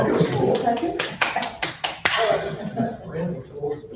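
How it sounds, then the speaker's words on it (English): A few people give sparse, sharp claps for a councillor during a council meeting. The claps sound close and separate, then fade as talking and light murmuring take over. "Round of applause"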